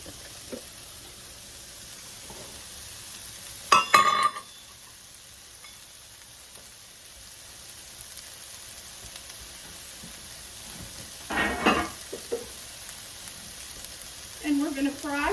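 Carrots, celery, parsley and onion frying in a pan give a soft, steady sizzle, broken by a few louder bursts of stirring and clatter, close by with no clear talking.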